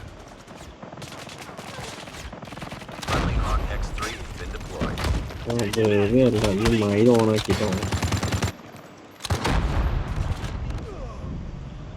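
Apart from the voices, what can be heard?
gunfire in video game Call of Duty Mobile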